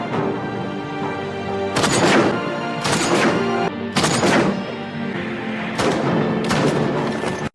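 A battlefield scene from the 2016 film Mine, with loud gunshots and landmines detonating in a string of heavy, booming blasts over a continuous rumbling din, roughly seven impacts spaced irregularly.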